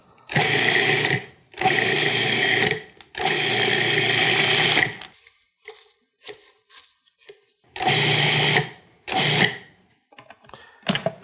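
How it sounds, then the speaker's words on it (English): A food processor pulses kale and parsley pesto toward a coarse paste, loud whirring bursts of a few seconds each separated by short pauses, followed by quicker, shorter pulses near the end, close by with no talk. "Now I'm going to put the lid on this, and we're going to pulse it until it is a coarse paste"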